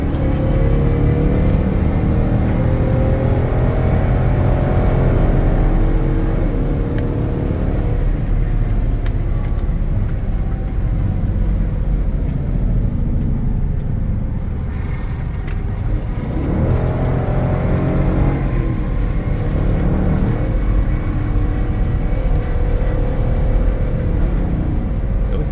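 A Dodge Durango RT Hemi driven at night, heard from inside as a loud, steady engine and road rumble that dips briefly and swells again as the driver accelerates.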